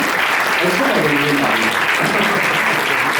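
A crowd applauds loudly and steadily at a book-signing speech at a Paris town hall, a dense wash of clapping throughout with a voice speaking briefly underneath.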